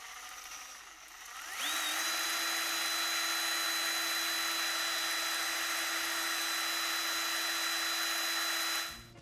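A power drill spins an apple for peeling, its motor whining up quickly to a steady high-pitched buzz that holds evenly for about seven seconds before cutting off, fairly close and with no talking.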